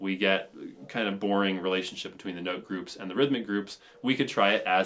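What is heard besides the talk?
No distinct noise like a dog, phone or traffic.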